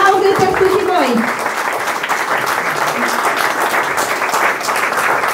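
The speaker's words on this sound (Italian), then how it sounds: "Vi diamo il benvenuto e un caloroso applauso." Warm, loud applause from the audience at the opening of an international art exhibition at Casa dei Carraresi, steady dense clapping, with a speaking voice over the first second before the clapping carries on alone.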